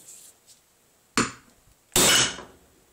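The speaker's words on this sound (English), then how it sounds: "Just a little ding from the hammer." Two solid hammer blows striking a piece of knife handle material, the second louder, with a faint tap beforehand and quiet between hits.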